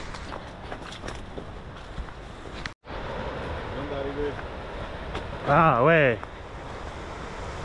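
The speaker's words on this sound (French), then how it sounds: "On est en train d'arriver, j'entends le bruit de la cascade là." A steady broadband rush of a jungle waterfall in Togo fills the background, with a person speaking briefly and an excited exclamation over it.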